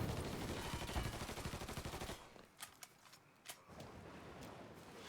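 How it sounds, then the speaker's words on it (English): Gunfire in Mafia III during a heavy shootout: a dense, loud rattle of sustained automatic fire for about two seconds, then several sharp isolated shots over a quieter, rumbling background, with no voices. "Won't stop shooting!"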